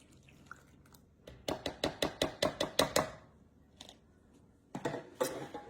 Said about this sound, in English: Giving that a whisk.